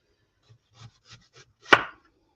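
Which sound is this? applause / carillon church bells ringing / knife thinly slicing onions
knife thinly slicing onions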